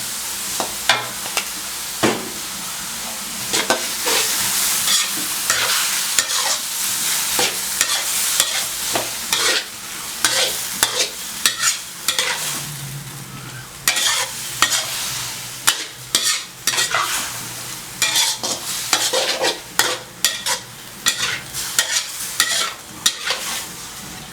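Beef and pickled bamboo shoots being stir-fried in a wok with oyster sauce and a little sugar, a steady sizzle broken by repeated sharp scrapes and clacks of the spatula against the pan, close and loud throughout.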